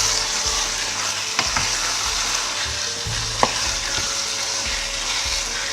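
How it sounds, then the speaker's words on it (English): Seasoning is stirred into egusi soup with bitterleaf, assorted meat and stockfish, producing a steady bubbling sizzle with a couple of distinct spoon knocks against the pot. "And then I'll stir all that in."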